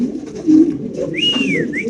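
A pair of fancy Tana pigeons coo close by, a low throaty coo followed by a brief rising whistle-like note, with no voices.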